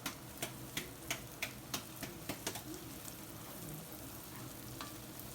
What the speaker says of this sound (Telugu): ఈ అల్లం వెల్లుల్లిపాయ పేస్ట్ కూడా వేసి ఒక్కసారి బాగా కలిపేసుకుని